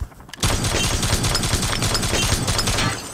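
Dense, sustained gunfire from a Call of Duty Mobile match on iPhone: rapid overlapping shots rattle loudly and continuously after a brief quieter opening, with no talk.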